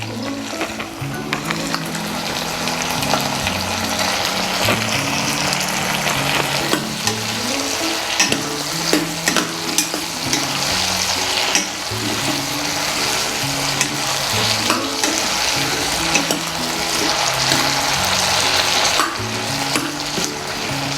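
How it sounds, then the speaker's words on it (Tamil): Cut brinjal pieces fry in hot oil for a Tamil kaara kuzhambu, a constant loud sizzle with the scrape and clatter of stirring in the pan, no voices. "எண்ணெயிலே நல்லா வதங்கிடும் கத்திரிக்காய்."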